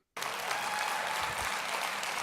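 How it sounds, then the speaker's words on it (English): An audience bursts into applause after a brief silence, a dense sustained clapping that stays steady and fairly distant until the end. "What are we applauding?"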